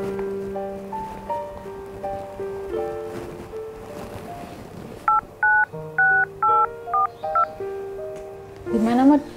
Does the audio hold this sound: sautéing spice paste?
no